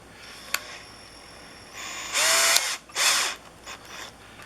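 A power screwdriver tightens screws on a replacement shoreline power cord plug in a few short whirring bursts, close and moderately loud, with a small click before the first run.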